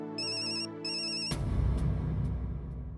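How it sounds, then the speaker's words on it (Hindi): A phone rings with a repeating electronic tone in two bursts, then cuts off into a burst of loud, dense noise. "अंजलि भाभी का फोन है।"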